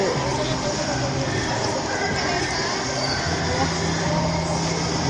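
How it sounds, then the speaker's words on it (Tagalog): Horses near the Bell Tower in Vigan, Ilocos Sur, with occasional neighing and hoof clatter under steady crowd chatter and nearby traffic noise. "Daming kabayo."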